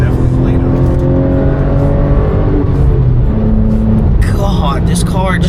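Car driving hard along a winding road with the engine revving up through acceleration. Someone talks loudly inside the cabin over the steady engine drone.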